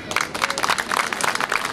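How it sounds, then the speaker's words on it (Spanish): A community crowd at a street parade tribute to Bernardo O'Higgins applauds steadily, a burst of many hands clapping at close range with some voices mixed in. "Y este aplauso significa que la comunidad también lo quiere."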